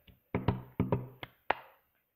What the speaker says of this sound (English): So you can hear boom, snap, clap